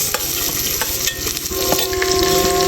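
Onion and green chilli frying in oil in a pan for spicy thukpa, with loud, close sizzling and intermittent stirring scrapes, and no voices.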